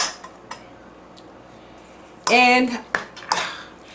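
A spoon clinks and scrapes against a bowl while mixing hamburger meat, with a few light taps before a louder, rattling burst of stirring and a couple of sharp knocks, and a brief word spoken.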